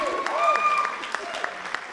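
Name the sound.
audience cheering and applauding at a board meeting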